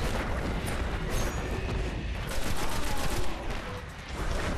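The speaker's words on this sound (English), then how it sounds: "Jeez, they're firing some huge rockets at us." Huge rockets fired by enemies in Destiny on PS4 pound away in a continuous barrage, dense loud explosions and rapid gunfire overlapping without pause, close and chaotic.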